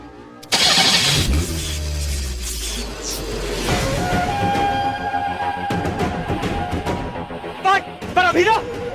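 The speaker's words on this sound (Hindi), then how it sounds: "गाड़ी स्टार्ट करो" A car engine cranks and catches with a loud burst, then settles into a steady running hum, with voices calling out over it near the end.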